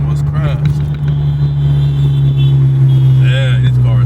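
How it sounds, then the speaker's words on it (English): Steady close road rumble from moving traffic runs throughout, with a car passing in the mix, as people chat over the constant hum of driving. "Yeah, this car is finna crash over here."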